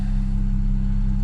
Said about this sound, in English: popping right there and revving a little high